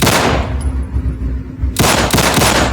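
A Tokarev pistol from a modern weapon mod fires rapidly in Fallout 4, loud close bursts of quick shots, a pause with echoing tail, then another fast volley.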